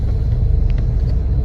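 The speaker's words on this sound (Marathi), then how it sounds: "बघू शकता ट्रॅफिक." Hyderabad city road traffic makes a continuous low rumble of car engines and passing vehicles, heard from inside a moving vehicle, with faint higher mechanical noises on top.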